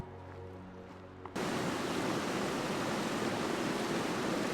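Rushing water of the Zigzag River at a backcountry trail crossing, a dense steady roar that kicks in loud after a quieter opening second and stays close and constant.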